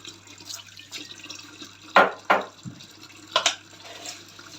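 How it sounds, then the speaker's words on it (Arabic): Tap water runs over catfish being cleaned, heard as a soft running trickle broken by a few louder splashes and bursts of water near the middle and toward the end. "هفتح بس عليها الميه"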